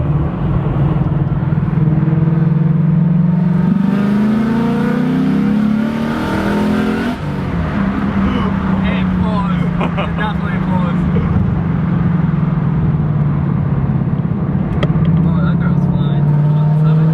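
Loud 2017 Mustang engine drones and revs up and down in a steady, throaty roar from inside the car, rising in pitch, briefly dropping back, then climbing again, with people talking over it.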